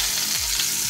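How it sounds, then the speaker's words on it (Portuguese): Garlic sautéing in a pan before jiló is added, a dense, even sizzle of frying oil heard close up with faint stirring, no voices. "E aqui nós vamos refogar o nosso jiló."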